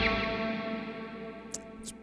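Sustained electric guitar lead tone drenched in delay and reverb, notes ringing and smearing together with two brief bright transients near the end.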